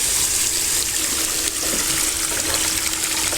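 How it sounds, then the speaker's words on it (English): Steady broadband rush of water pouring out of a recirculating highbanker used for gold mining, continuous and fairly loud with no talk. "In the middle, water's still pouring out."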